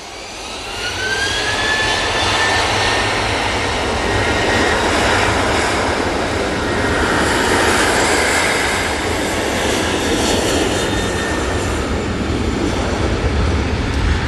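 Jet airliner roaring on the move at Manchester Airport, a TUI flight bound for Heraklion, its loud broadband engine noise building within the first second and holding steady and close for the rest of the stretch, with no talk.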